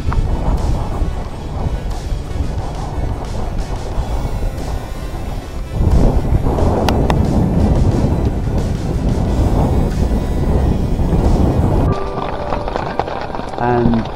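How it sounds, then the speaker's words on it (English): Wind of a summer gale storm at sea off Menorca buffets the microphone on a sailing boat, a constant loud rumbling roar with water noise, continuing for the whole stretch. "And for the last 20 odd minutes there's been this huge storm"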